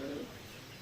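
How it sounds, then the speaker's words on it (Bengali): Racing pigeons in a loft give a single faint, short coo at the start, followed by quiet background hiss. "খামারের কবুতরগুলি একটু আপনাদেরকে দেখাবো বলে।"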